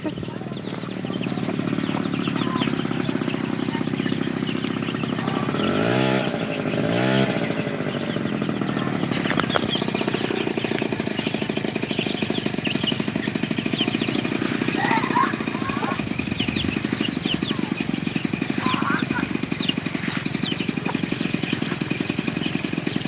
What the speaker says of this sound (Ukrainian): Мопед.